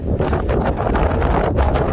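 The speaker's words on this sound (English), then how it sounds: "As you can tell, it's still pretty windy out." Strong wind buffets the microphone on an exposed Appalachian Trail mountain section near Lake of the Clouds, a steady loud roar with gusty swells and no talking.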